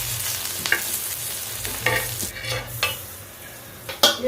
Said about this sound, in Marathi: आता आपण डोमा फ्राय करतोय.